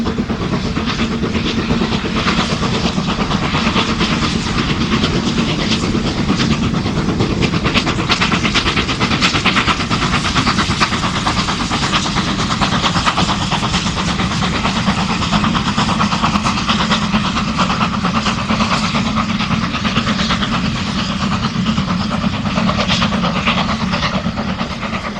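BR Standard 9F steam locomotive 92212 hauls a train past Bishop Sutton, a steady loud rolling roar of wagons and engine with continuous rhythmic clatter, no talk.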